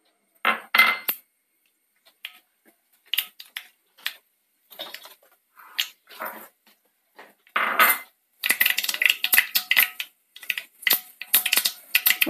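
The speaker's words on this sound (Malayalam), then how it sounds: "ചൂടായ എണ്ണയിലേക്ക് കടുക് ചേർക്കാം." Mustard seeds splutter in hot coconut oil, giving scattered crackles and pops that grow into a dense, steady sizzling, close and fairly loud, with no voices.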